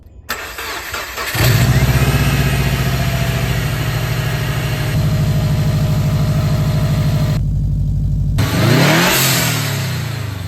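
Subaru WRX fitted with a Cobb cold air intake cranks and fires up, then settles into a loud, steady idle with slight revs, a brief dip and a rise near the end, heard alone.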